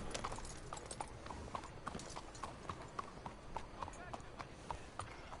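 Rhythmic horse hoofbeats in Red Dead Redemption 2 on PS4 clip-clop at a steady trotting pace, crisp and close over a soft background hum.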